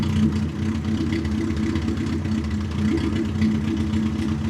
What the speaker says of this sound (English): The exhaust is a bit too much on the loud side.